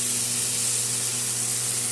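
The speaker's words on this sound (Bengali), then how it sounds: "এখন আমি দিয়ে দেবো জল।" Water poured into a pan of hot fried, oil-released spices while cooking Bengali rui fish curry, giving a loud continuous hissing steam and sizzle that holds steady and close, with no talking.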